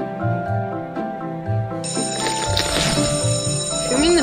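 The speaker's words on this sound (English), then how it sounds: "Ringing the bell means we go to a different class." A school bell rings in a Roblox game, a bright electronic ringing tone that sounds repeatedly and grows busier, with faint game sounds underneath.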